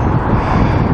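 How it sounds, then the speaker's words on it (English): Strong wind buffets the microphone in a steady, loud rumbling roar with no other sounds standing out, beside the flooded River Hull. "It might be too windy down here because we're opened up"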